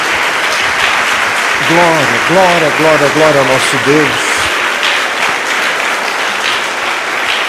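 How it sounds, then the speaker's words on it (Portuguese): A Portuguese-speaking church congregation applauds in praise, sustained loud clapping filling the room while a voice sings and chants over it, then the applause continues on its own. "Dê uma salva de palmas ao Senhor."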